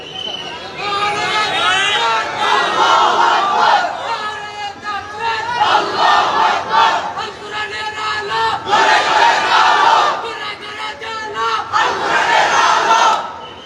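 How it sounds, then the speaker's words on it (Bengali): A large crowd at an Islamic religious gathering shouts the takbir slogan together in repeated loud rhythmic bursts, each chant rising and falling with brief pauses between them. "উলামায়ে কেরামদেরকে একজন নারায়ে তাকবীর দেন তো।"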